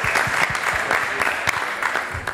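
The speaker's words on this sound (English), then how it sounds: "Give them a round of applause." Crowd applause for a panel, brisk close clapping with distinct individual hand claps standing out over a steady wash of many hands, no speech.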